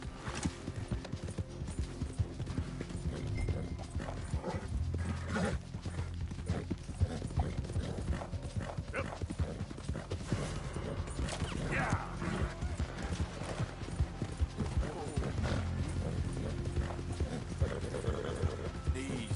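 Horse hooves galloping in the Red Dead Redemption 2 video game, a steady driving clip-clop running throughout alongside a neigh, with game music and someone talking over it.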